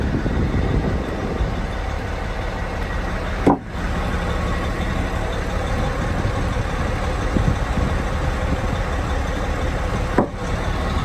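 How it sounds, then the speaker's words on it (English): A Volvo dump truck with a double frame idles steadily, its engine giving a constant low rumble from close by, broken by two brief clunks. "real nice dump truck"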